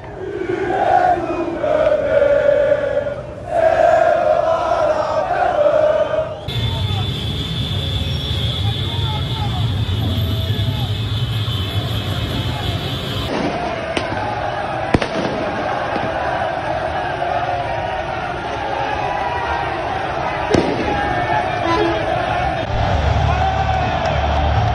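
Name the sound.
Marseille football supporters chanting in the stadium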